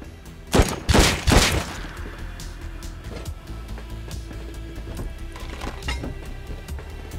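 Heavy bursts from an HMLMG machine gun in the survival game Rust, three loud booming shots close together at first, then fainter scattered pops over a steady background rumble.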